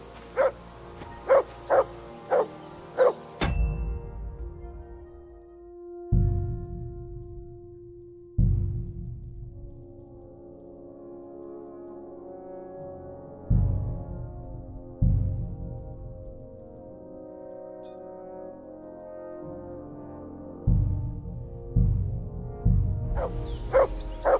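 The dog Mutt in Kingdom Come: Deliverance II gives several quick barks, then slower, spaced single barks and whimpers over a quiet background.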